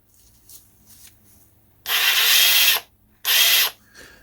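A Ridgid 3/8-inch subcompact impact wrench running in auto mode, heard in two loud, close bursts, the first roughly a second long and the second shorter, after a few faint clicks and handling sounds.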